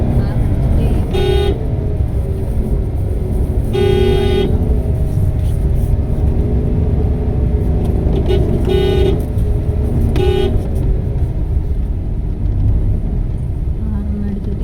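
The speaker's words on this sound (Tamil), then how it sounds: "ஹார்ன் அடிச்சுட்டே போயிட்டே இருக்கான்." Car horn honks in short repeated bursts over steady road traffic rumble while driving on a wrong route toward Kovalam lighthouse, several distinct toots spaced across the drive, loud and close.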